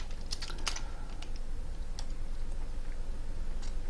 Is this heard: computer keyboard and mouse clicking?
yes